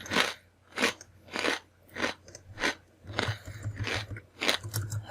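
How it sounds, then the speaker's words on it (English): Crunching while eating a snack, about ten loud close bites and chews in a steady rhythm with a faint hum underneath. "Sorry for the crunching"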